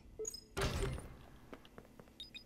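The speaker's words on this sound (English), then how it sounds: "There is a button on the wall that will open the door to the back room." A door opening in the video game Five Nights at Freddy's: Security Breach, a loud sudden mechanical thunk and slide that fades into quieter clicks and room tone.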